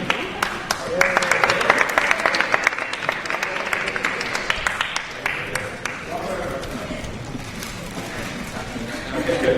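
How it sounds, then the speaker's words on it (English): An audience at a Comic Con 2011 panel claps in a sustained round of applause, dense pattering that swells and then thins, with people talking over it. "round of applause, please."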